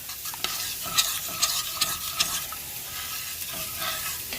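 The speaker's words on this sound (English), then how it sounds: "we've got our sauce kind of sizzling and boiling over here" Close-up stirring of Alfredo sauce in a pan over a steady hiss of sizzling and bubbling, with soft scraping strokes repeating every half second or so.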